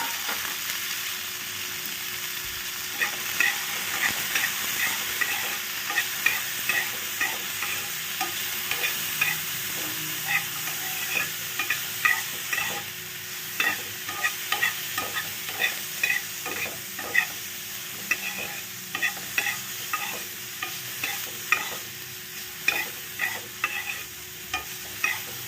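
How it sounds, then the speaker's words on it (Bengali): Cashews and raisins fry lightly in a little hot ghee, a steady close sizzle with frequent sharp scraping ticks from stirring that grow more regular toward the end, no voices. "নিয়ে এই যে কাজু আর কিশমিশটা যে নিয়েছি এটাকে একটু হালকা করে ভেজে নেব"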